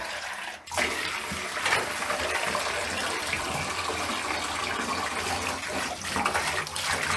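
Running water pours over a German Shepherd puppy to rinse off beach sand, a steady, loud close splashing gush that continues for several seconds after a brief pause.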